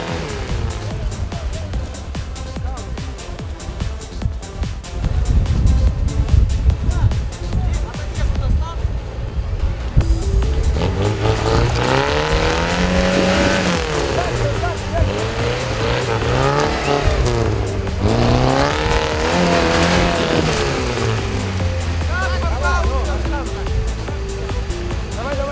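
A Soviet-made Lada Niva off-road car engine revs and whines loudly with rising and falling pitch during a trophy raid competition near Kislovodsk, continuous and close, with voices talking over it.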